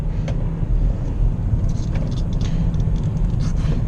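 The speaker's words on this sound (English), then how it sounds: "it just rips through gears." Cabin of a BMW X3 (F25) accelerating hard in sport and manual mode, a loud continuous low engine rumble with brief dips as the dual-clutch transmission snaps through gears.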